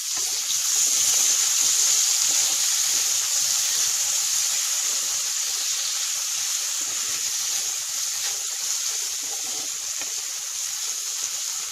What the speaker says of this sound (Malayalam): ഇനി ഇതും ചേർത്ത് നല്ല വഴറ്റിയെടുക്കാം.